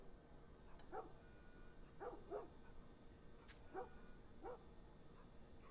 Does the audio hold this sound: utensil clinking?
no